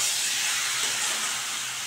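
Gathi kochu sizzles steadily in a hot pan while being sautéed, a loud, continuous broadband hiss that stays close and even throughout, with no other sounds over it.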